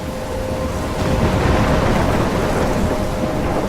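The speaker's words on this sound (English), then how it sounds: "I'm trapped in a storm?" A thunderstorm in the video game Life Is Strange: steady, loud rain hiss mixed with deep rolling thunder rumble, continuous throughout with no voices.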